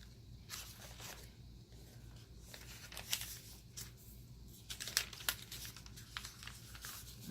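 Scissors trim overhanging washi tape inside a bound Hobonichi A5 Cousin planner, with soft crinkling, snips and paper rustles close by in short irregular bursts and no voices.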